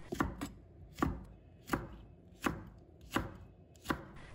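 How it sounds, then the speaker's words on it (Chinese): A knife chops a deseeded red chili into small pieces on a cutting board, about seven crisp, evenly spaced chops that are close and fairly quiet, with no voices. "再切一刀，最后切成小块。"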